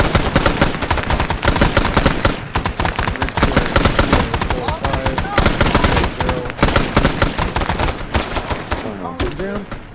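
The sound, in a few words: gunfire in a Vietnam War video game mission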